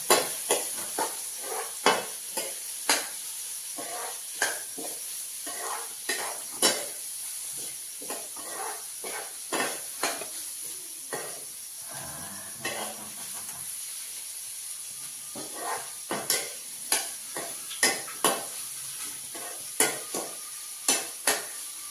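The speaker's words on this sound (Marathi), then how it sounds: "फिरवत राहा, कंटिन्यू फिरवत राहा" Onions fry in a pan while being stirred continuously, with repeated spoon strokes scraping across the pan roughly every second over a steady hiss of sizzling oil.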